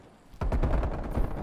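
Gunfire in a shooter video game breaks out suddenly after a quiet start, with loud, rapid bursts of shots that continue to the end.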